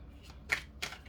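Tarot cards are shuffled in three quick riffling bursts, each a brief papery flutter close by, separated by short pauses in a quiet room.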